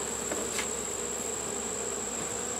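Bees droning steadily close by, a continuous high hum with one brief louder pass as a bee flies near.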